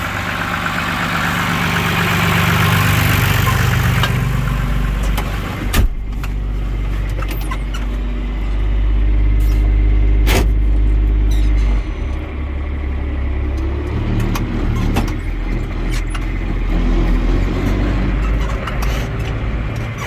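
A heavy tractor engine rumbles steadily at close range for the whole stretch, with occasional knocks and rattles over the low drone, on a cattle farm while feeding hay.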